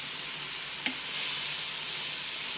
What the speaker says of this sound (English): I'm just gonna flip these steaks over nice and good so you can get the other side.